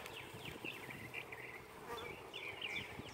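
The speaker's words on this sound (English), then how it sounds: "And there we've got the bees at work." Honey bees buzzing around a hive at a beekeeper's grounds, several insects whining and droning close to the microphone in overlapping passes over a soft background hum.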